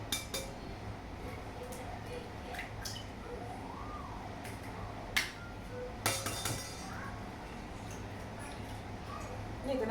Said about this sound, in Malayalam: ഇതിലേക്ക് നമുക്ക് മുട്ട പൊട്ടിക്കാം.